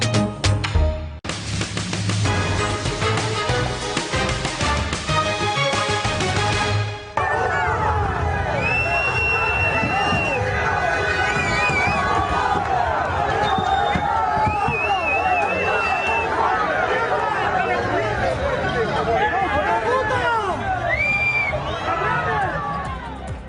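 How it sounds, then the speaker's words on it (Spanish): Crowd booing Spanish Prime Minister Pedro Sánchez on his arrival in Ceuta, a loud, dense roar of many voices with shouts and whistles filling the whole stretch without a break. "Eran otra vez los abucheos de ayer a Pedro Sánchez a su llegada a Ceuta."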